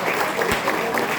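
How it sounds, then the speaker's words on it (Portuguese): An audience at a regional union workers' seminar breaks into brief applause, a dense wash of clapping with a voice briefly audible. "Queria uma salva de palmas a todo mundo que veio,"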